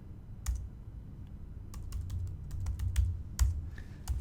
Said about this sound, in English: Oh, I guess I can't talk and type at the same time.